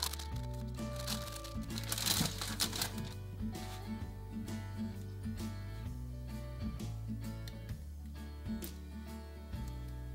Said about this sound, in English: Time to peel this all off and see how we did with our 3D printed stencil.